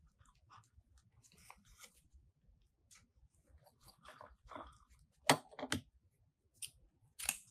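Scissors cutting deco mesh for a Valentine's heart wreath, a quiet series of short snips and crisp crunches, with a few sharper, louder cuts toward the end.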